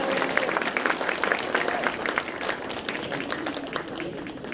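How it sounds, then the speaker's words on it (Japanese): A crowd claps steadily through the whole stretch at a women's professional wrestling award ceremony where prize money is handed over in the ring. The applause stays loud and dense, with an announcer's voice faintly under it. "それでは皆様改めまして拍手でお迎えください。"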